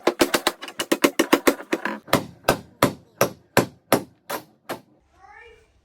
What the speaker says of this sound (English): Just going to hammer it, and hopefully that just goes straight through because it's fibro on this side and plasterboard on the other side.